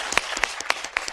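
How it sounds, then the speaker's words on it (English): Audience at a business panel event applauding a speaker, a brief burst of scattered hand claps with a few distinct sharp claps standing out, fairly close. "Let's give Zimkita a round of applause."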